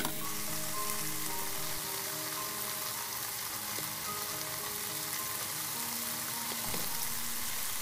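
Kimchi fried rice ingredients frying together in a pan for kimchi bokkeumbap, giving a steady, dense sizzle that holds at an even level throughout, with a few faint tonal hums and light clinks beneath it.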